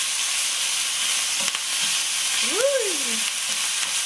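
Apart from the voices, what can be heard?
mixing ingredients in a hot frying pan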